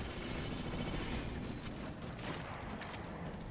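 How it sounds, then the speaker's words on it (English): Gunfire in the Halo 5 multiplayer video game, a dense, steady barrage of shots and crackling combat noise filling the whole stretch with no talk over it. "I heard some gunshots go off."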